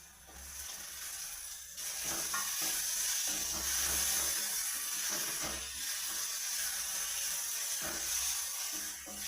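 Tomatoes hiss and sizzle steadily in a pan with onions that have been lightly browned, giving a continuous, fairly loud frying sound with occasional stirring.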